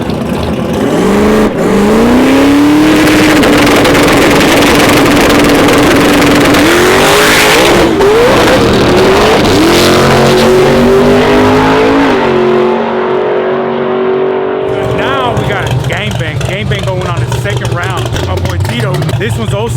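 A full-size pickup truck roars through a drag racing run, its engine climbing through gear shifts with rising and falling pitch, loud and close, then fading as it pulls away, with voices speaking over parts of it.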